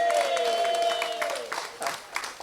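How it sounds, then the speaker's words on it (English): A round of applause from the audience at an outdoor blue plaque unveiling ceremony, clapping swelling and fading while a sustained tone carries over it early on. "Round of applause, ladies and gentlemen."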